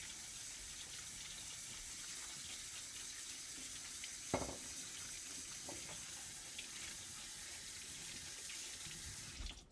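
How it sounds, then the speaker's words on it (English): Cold tap water runs steadily into a bowl as vegetables are rinsed, a continuous close splashing stream with a brief clunk partway through. "we're going to rinse them really well with cold water and get them all nice and clean"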